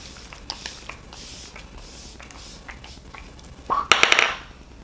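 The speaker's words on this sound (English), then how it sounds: "Let me go ahead and finish off the makeup by using a finishing spray." A Flower Seal the Deal long-lasting matte setting spray is misted onto a finished makeup look in a short, close, hissing burst that follows a few faint rustling handling sounds, with no one talking.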